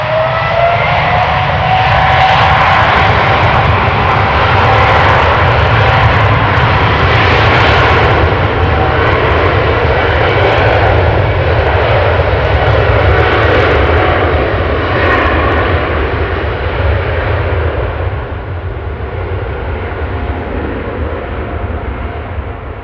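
A KLM Boeing 777-200ER jet, 18 years old, roars loudly at Amsterdam Schiphol airport. The broad, steady engine rumble and whine hold close and strong throughout, easing only slightly toward the end, with no talking.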